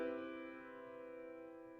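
Major seventh chord sounded as an ear-training example in a beginning music theory lab: a single sustained chord with clear stacked tones, ringing steadily and fading slightly over about two seconds, with no voices.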